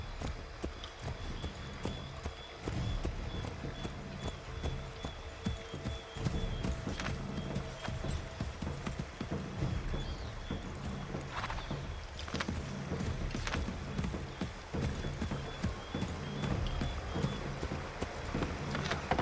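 Galloping horse hooves from the Assassin's Creed III video game drum in a fast, continuous rhythm of clip-clops over a busy game soundscape, steady and fairly loud throughout.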